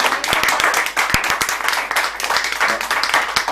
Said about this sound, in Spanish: y creo que se merece un aplauso.